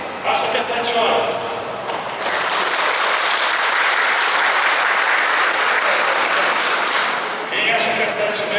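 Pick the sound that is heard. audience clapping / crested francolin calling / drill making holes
audience clapping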